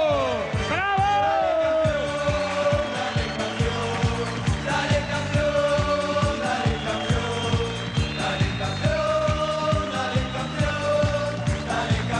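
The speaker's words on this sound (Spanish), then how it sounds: "Fuerte el aplauso para los campeones de primera división" A TV studio audience cheers the first division champions, Newell's Old Boys, with loud crowd noise and whoops over rhythmic music.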